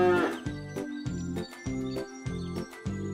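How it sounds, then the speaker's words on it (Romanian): Cartoon cow mooing aboard a children's animated train, heard as a few repeated low tonal moos over a rhythmic, bouncy backing of music and train sounds. "O văcuță merge cu trenul."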